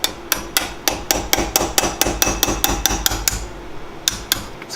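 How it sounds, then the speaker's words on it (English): A standard hammer taps a small Allen key to drive out the pins on a GT500's Brembo brake caliper: about fifteen sharp, evenly spaced metallic strikes, close and loud, with a brief pause before two final taps. "I simply use a small Allen to tap these out using a standard hammer"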